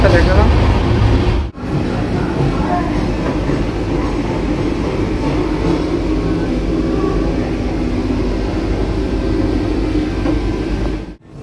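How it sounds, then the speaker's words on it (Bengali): Inside a coach of the 12837 Howrah-Puri Superfast Express on the move, a steady, loud rumble of wheels and carriage runs throughout, with voices faintly present beneath the noise. "আমাদের ট্রেন ছেড়ে দিয়েছে"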